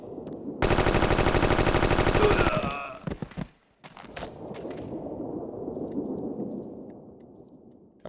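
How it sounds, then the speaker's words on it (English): A submachine gun fires a long, rapid, continuous burst in Indiana Jones and the Infernal Machine, loud and close, followed by a few scattered impacts and a low rumbling game ambience. "let's get this man's attention and then submachine gun him."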